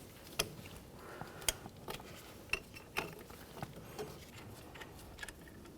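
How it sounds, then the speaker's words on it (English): A 10mm wrench works a brake hose fitting off the caliper of a 2010-2013 Ford Transit Connect, giving a scattered series of sharp metallic clicks and taps over a low background, close by and fairly quiet. "I'll continue by removing the fitting from the caliper. Let's use our 10mm for this."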